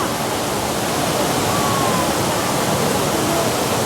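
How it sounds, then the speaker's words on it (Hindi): A large indoor waterfall pours down inside a big hall in Singapore, heard as a loud, steady, unbroken rush of falling water with no talk over it. "ये एक बड़ा सा हॉल जहाँ से पानी गिर रहा है, नीचे गिर रहा है।"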